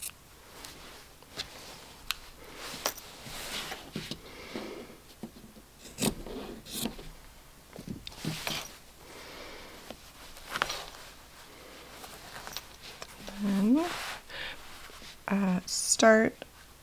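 Scissors snip along the fabric edges of a ruffle box zip pouch, a run of close, quiet cuts and rasps with soft handling sounds; a voice speaks briefly near the end.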